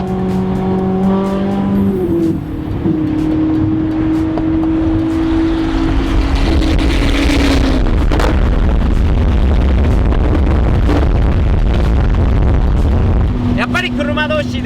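Two Ferrari sports cars, one a modified kaido-racer style build, rev and run together at a car meeting, their loud exhaust notes rising and falling up close over a continuous engine roar.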